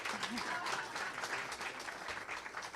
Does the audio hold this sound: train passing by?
no